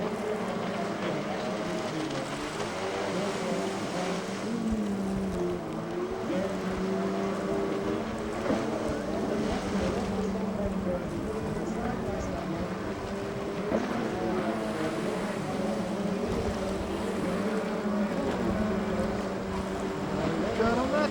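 Hydrocross personal watercraft race on open water at a Canadian championship, their engines a continuous droning whine with shifting pitch, mixed with wind noise on the microphone throughout.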